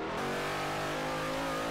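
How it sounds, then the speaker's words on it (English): Loud Holden V8 race car engine roaring steadily in Forza Motorsport 4 during a V8 Supercars event, a sustained, close, droning rumble with rising harmonic pitch and no talk over it. "It's like that really loud, roaring engine."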